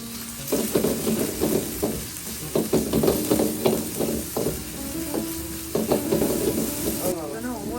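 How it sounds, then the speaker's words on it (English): Tomato, chili and shallot frying fast in a pan at a street food stall, with a loud sizzle and busy stirring and scraping throughout, and a faint voice now and then. "He fast cooks tomato, chili, and a shallot"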